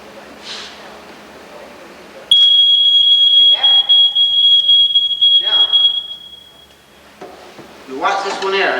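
A smoke detector set off by smoke blares a loud, piercing continuous tone for about four seconds, then stops, with people talking before, during and after it.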